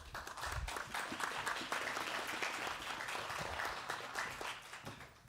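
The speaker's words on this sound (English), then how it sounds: "that's probably the most applause I'll expect for the next 5 minutes" An audience applauds at a military promotion ceremony, a dense and fairly distant wash of clapping that holds steady for several seconds before easing off.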